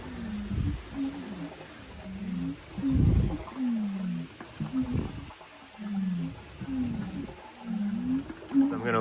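A seized, oiled Model T engine is turned over by hand and gives a series of low, groaning, creaking scrapes in a slow repeating rhythm, up close, with occasional thumps.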